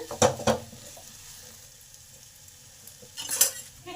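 A spoon scrapes and clinks against a pan while sugar is stirred into a simmering papaya curry, two sharp knocks at the start and another near the end over a soft, low sizzle.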